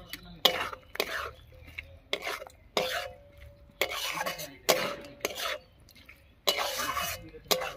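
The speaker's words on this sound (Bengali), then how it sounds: "একবার দিয়ে দিচ্ছি ভেজে রাখা মাছগুলো।" Fried small fish tipped into a pan of radish greens curry and stirred, a spatula scraping and clinking against the pan in repeated bursts, close and fairly loud with short pauses between strokes.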